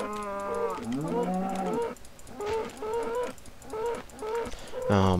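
A cow moos repeatedly in the Minecraft video game, several drawn-out, close, loud lows in a steady sequence, ending with a sharper burst.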